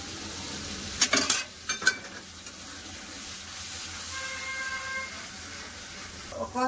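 Spice masala of cumin powder, cashew paste and poppy seed paste fried and stirred in a pan for a cauliflower and potato dish: steady soft sizzle with bursts of spoon-scraping clatter near the start and a faint tonal whine later.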